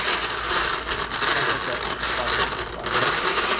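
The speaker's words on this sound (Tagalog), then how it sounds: "Okay, so i-blender na natin siya." A blender whirs steadily as it blends honey and fresh lemon juice, a loud, continuous motor roar with a dense, even texture lasting throughout.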